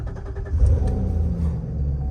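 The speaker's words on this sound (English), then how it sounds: "let's go for a quick drive around the block and see how this thing is driving" A rebuilt Corvette drives around the block in the rain, its engine a steady, close, low rumble that swells briefly early on and then holds level, with no talking.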